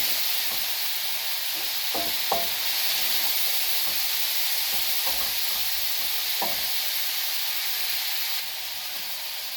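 Frozen peas tossed into a pot with soaked, washed rice, giving a steady bright sizzle and hiss with occasional soft knocks and stirring scrapes near the mic, easing slightly toward the end.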